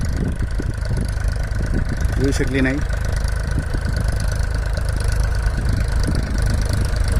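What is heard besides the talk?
tractor engine running while sowing onion seed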